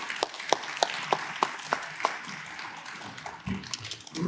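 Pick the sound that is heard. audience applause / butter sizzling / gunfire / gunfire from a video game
audience applause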